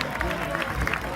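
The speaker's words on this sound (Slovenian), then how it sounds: "prosim en aplavz" Audience at the Majenca 2018 village festival breaks into applause as couples arrive, a brief wash of clapping with crowd murmur underneath.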